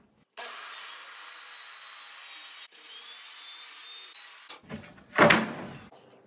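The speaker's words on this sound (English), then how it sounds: "I'm just going to cut it with my skill saw" A skill saw spins up with a high, steady whine, briefly dips, then runs on and bites through a wood panel in a short, rough cutting burst at the end.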